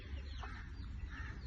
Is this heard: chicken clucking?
yes